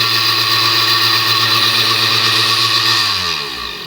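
An Oster Dual-Action blender whirs loudly and steadily at medium speed, its motor pitch holding even before winding down at the end.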